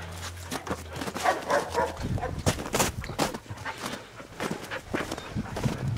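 A small rat terrier barks outdoors in a series of short, sharp yaps spread across a few seconds, mixed with rustling footsteps and light background noise.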